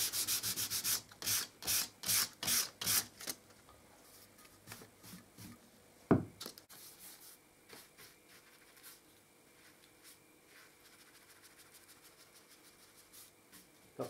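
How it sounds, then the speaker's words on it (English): Light hand sanding of wood filler on a table stand, a series of close, soft rhythmic rubbing strokes followed by a sharp knock and then fainter, scattered scratches. "Don't forget to give your filler a light sand."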